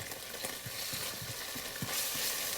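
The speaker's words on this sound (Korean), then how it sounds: "그냥 뭐 계속 볶는 거야. 익을 때까지 볶아야지." Leftover jokbal fried rice with oyster sauce is stir-fried in a pan at home, giving a steady close sizzle with scattered scraping and stirring knocks from the spatula.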